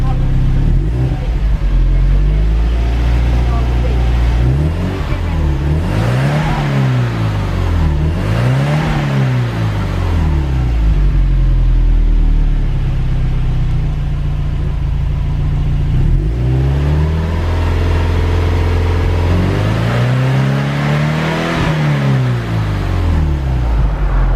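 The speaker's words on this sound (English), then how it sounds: "show you what this Subaru sounds like with the factory exhaust" A Subaru Impreza STI engine revs repeatedly through the stock factory exhaust, rising and falling in several long swells over a steady idle rumble, close and loud.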